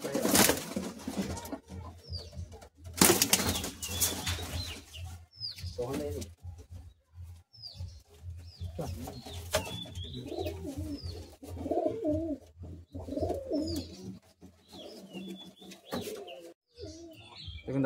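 Madrasi pigeons released from the hand, with soft repeated cooing and chirps mixed with bursts of wing flapping and handling noise, while someone talks nearby.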